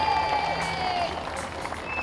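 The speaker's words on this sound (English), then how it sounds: "let's give a big round of applause." Applause for a former president and his wife at a small-town peanut festival, a short burst of crowd clapping and cheering, steady and moderately loud.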